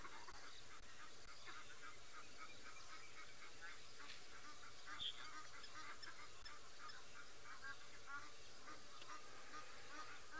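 Geese and lapwings call from a distance at sunrise on an African safari drive while a leopard rests nearby, a steady scatter of faint honks and chirps over quiet background hiss, with some talk present.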